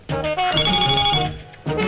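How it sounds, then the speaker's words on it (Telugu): A loud electronic ringing tone from a fax machine, two bursts of bright trilling with a short pause between them. "ఫోన్ లిఫ్ట్ చేయమంటారా? ఇది ఫోన్ కాదు, ఫ్యాక్స్."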